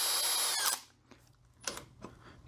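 A Makita drill spins a plug cutter at high RPM with a loud whining burst that winds down, followed by two shorter quieter spin-ups separated by near silence.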